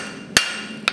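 A sharp hammer blow on a hot iron bar rings out, followed half a second later by a quick cluster of two or three more metallic strikes, in blacksmith forging.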